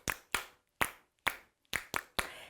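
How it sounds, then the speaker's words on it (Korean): Children clap their hands in a church toddler worship service, seven sharp, separate claps in an uneven rhythm, close and crisp with quiet gaps between them. "오, 박수 소리!"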